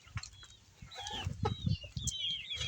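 A mother duck clucks softly in low, irregular bursts, with a few brief higher bird chirps and squeaks mixed in nearby.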